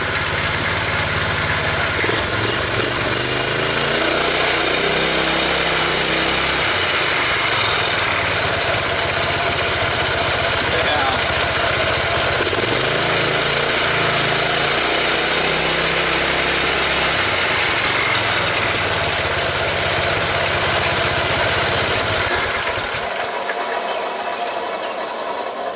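A small Predator gasoline engine on a homemade motorized scooter runs close by with a steady, rattling mid-pitched drone and mechanical vibration, then cuts out shortly before the end.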